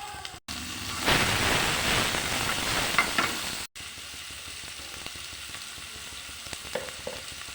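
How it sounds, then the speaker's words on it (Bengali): Shrimp frying in a pan for a dish of ripe ash gourd, a steady close sizzle that rises loud after a brief gap, cuts out for a moment, then returns quieter with small scattered pops. "তো আগে চিংড়িটা ভেজে নিচ্ছি।"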